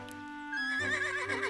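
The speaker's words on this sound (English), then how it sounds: "Princess Zelda's horse. Not Epona. This is a white steed." A white horse in The Legend of Zelda: Echoes of Wisdom gives a single short neigh, a clear rising and wavering whinny that sounds close and fairly loud.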